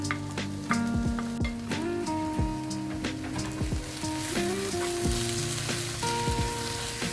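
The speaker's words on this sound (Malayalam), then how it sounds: "അതെല്ലാം കൂടെ ശരിക്കും മിക്സ് ചെയ്ത് നന്നായി മൂപ്പിച്ചെടുക്കാം" Coriander powder and garam masala sauté with fried onions for Kuttanadan duck curry, a constant frying sizzle under background music, with occasional stirring taps.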